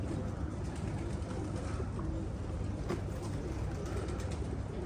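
Pigeons coo softly on a balcony in Basra over a constant loud broadband hiss, with occasional faint wing flutters.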